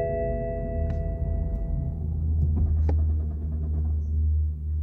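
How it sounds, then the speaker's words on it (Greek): A 2016 BMW 1 Series engine idles with a low, steady rumble that swells and then settles as it shuts off by remote GPS alarm command, with a couple of faint clicks and no talk. "Μόλις λάβουμε την επιβεβαίωση, stop engine succeed, το αυτοκίνητο που να είναι θα σβήσει."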